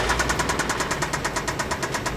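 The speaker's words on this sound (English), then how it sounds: "a 91 Toyota with a little bit of an engine noise" A 1991 Toyota truck engine with a fault runs steadily up close, a loud, rough idle with a fast, regular knocking pulse throughout.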